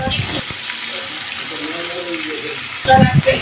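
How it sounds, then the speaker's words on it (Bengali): Chicken meat sizzles steadily in a hot pan, a soft continuous hiss under a person talking nearby. "এখানে চিকেন ফ্রাই করছে মাংসটা ভাজা শুরু করে দিয়েছে"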